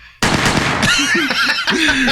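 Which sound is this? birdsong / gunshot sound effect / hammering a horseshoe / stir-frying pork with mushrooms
gunshot sound effect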